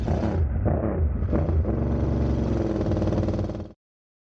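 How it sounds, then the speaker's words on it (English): A Delkevic aftermarket motorcycle exhaust rumbles and revs up loud and close, a deep throaty engine note holding steady before cutting off abruptly near the end. "you're going to hear a lot of exhaust notes in this video"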